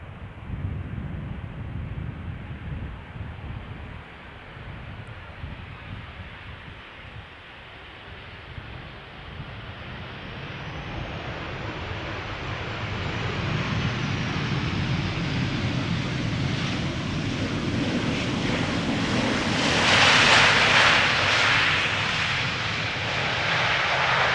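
A KLM Boeing 737-800, registration PH-BXZ, arrives at Schiphol Airport from Birmingham, its jet roar building steadily from a distant rumble to a loud, close pass over about twenty seconds, with no one talking.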